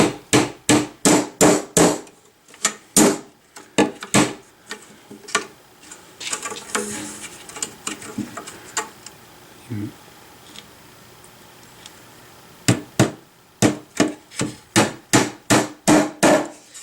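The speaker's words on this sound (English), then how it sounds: "The trick is not to hit the edge of the box while you're hammering them in" Sharp, evenly spaced hammer blows striking nails into a wooden beehive box, rapid bursts at the start and end with a quieter stretch of shuffling in between.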